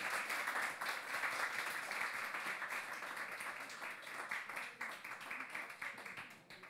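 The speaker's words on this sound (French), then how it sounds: "Vous pouvez l'applaudir." An audience applauds at a youth prize award ceremony, steady dense clapping held at an even level throughout, thinning slightly with a few louder scattered claps near the end.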